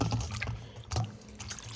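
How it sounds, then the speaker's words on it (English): A rag soaks in a bowl of water mixed with a cup of vinegar, a cleaning solution for walls and hard furniture; close, soft sloshing and splashing come in a few short bursts, with no talking. "and then we're going to soak the rag."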